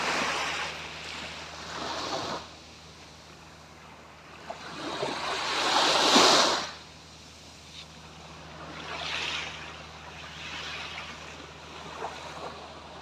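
Sea waves at Manao Bay, Prachuap, rolling in and breaking in repeated surges, with the loudest crash in the middle, softer swells either side and wind noise on the microphone.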